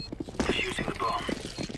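In CS:GO at a PGL Krakow 2017 match, a bomb is being defused: a quick run of rhythmic mechanical clicks plays under in-game sounds and a voice.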